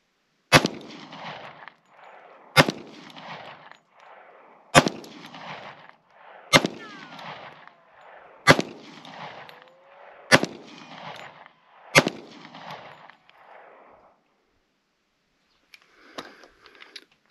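Seven loud, sharp gunshots from a Springfield Armory 1911 .45 ACP pistol fired at an outdoor target about 15 yards away, evenly spaced roughly two seconds apart, each trailing a short echo, followed by faint metallic clinks.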